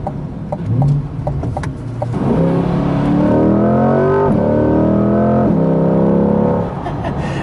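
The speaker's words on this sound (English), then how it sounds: "if you downshift one more time in a second and then just let it ride out, it will pop" A 2020 Corvette Stingray Z51 revs up hard through its gears, its engine note climbing in loud sweeping rises with quick shifts between them, heard close from inside the cabin.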